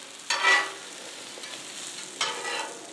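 A Swiss cheese sandwich grilling on a flat griddle pan makes a soft, quiet sizzle, with two short scraping or shuffling bursts, as if the sandwich is nudged or lifted.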